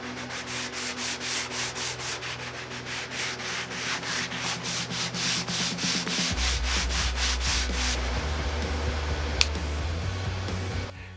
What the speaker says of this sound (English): By using a paper towel, I can help better conform the sandpaper to the details that I'm sanding